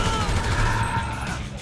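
Gunfire crackles through a Grand Theft Auto V rampage mission, a dense loud burst of shots with game noise layered over it.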